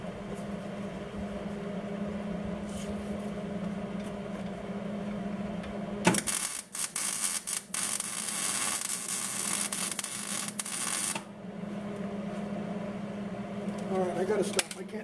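Miller 240V MIG welder running on solar power, a loud harsh crackling burst of arc welding that starts abruptly, sizzles steadily for about five seconds and then cuts off, over a constant electrical hum.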